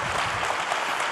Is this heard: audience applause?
yes